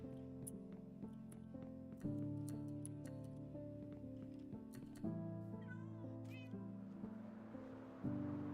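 A cat meows once or twice, faint and brief, over steady music with light ticking and no talking.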